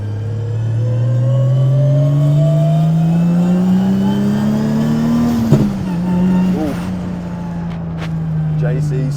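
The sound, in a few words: 600hp 2JZ JZX100 Mark II with sequential gearbox whine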